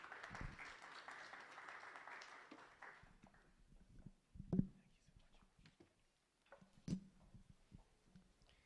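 A conference audience gives faint applause for the Vice Chancellor, heard as a short, distant patter. It fades within a few seconds into quiet room noise with a few soft knocks.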